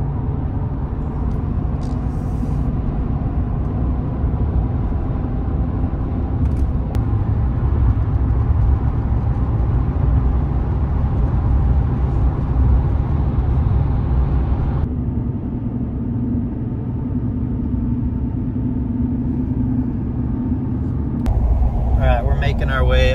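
A car climbing a canyon road, a steady low engine and road rumble holding evenly throughout from inside the vehicle, with small shifts in tone as it drives on.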